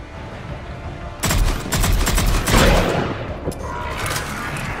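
Loud gunfire erupts in the Mass Effect 3 video game, a dense volley of shots with a heavier blast likely from a frag grenade, followed by scattered lighter shots and lingering combat noise.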